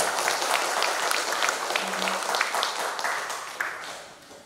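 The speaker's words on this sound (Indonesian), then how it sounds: "Aplaus dulu buat BKSDM." Sustained applause from an audience at a formal government ceremony in Bontang, a dense even wash of clapping that holds steady for several seconds before easing slightly.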